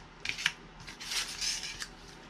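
Scissors snip through paper while shaping pieces for a handmade paper flower bouquet, giving a few close, crisp cuts followed by a longer rustling slice, quiet and with no talking.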